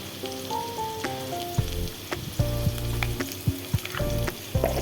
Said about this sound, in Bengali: কলাটা প্রায় ভাজা হয়ে গেছে